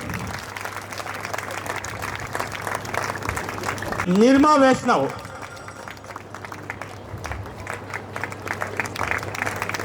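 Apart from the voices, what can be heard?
applause welcoming teachers on stage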